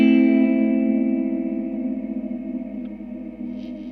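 Guitar played through a Crazy Tube Circuits Sidekick reverb pedal with its pre-delay turned, a sustained chord washing into a shimmering tail whose pitch wavers and drifts slightly as it slowly fades.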